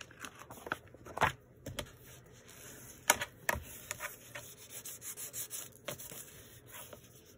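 A bone folder rubs across paper on a Victorian-style postcard junk journal, giving soft, close scraping strokes in an irregular rhythm with a few sharper taps and rustles between them.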